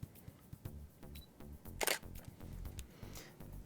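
A Canon Speedlite 470EX-AI flash head motors itself to a set bounce angle alongside the camera's shutter, giving a run of soft rapid mechanical clicks and a brief whirring burst in the middle, close and quiet.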